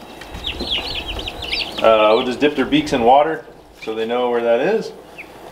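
Newly arrived turkey poults in a brooder peep in high, repeated chirps, near and clear, while a person talks over them for most of the clip.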